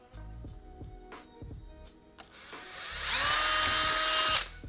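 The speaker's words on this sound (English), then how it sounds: "So there we go, we got that hole drilled" Steady ticking gives way to a power drill spinning up into a loud, sustained whine for about a second and a half while drilling a hole in a basket, before cutting off.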